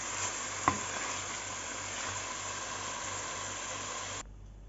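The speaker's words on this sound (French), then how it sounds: "Notre préparation d'oignon ail gingembre est en train de dorer." Chopped onion, garlic and ginger sizzle steadily as they brown in a pan, a continuous close frying hiss with one brief clink early on, cutting off abruptly near the end.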